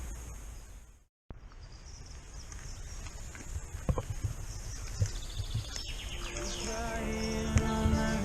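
Birds chirp and sing among spruce trees at a forest campsite, with scattered thin calls over a soft outdoor hiss, growing a bit busier toward the end, along with a few faint knocks and no talk.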